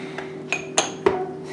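A lid goes onto a homemade yogurt maker filled with small jars, giving a few sharp clinks and knocks close by in quick succession, with no one speaking.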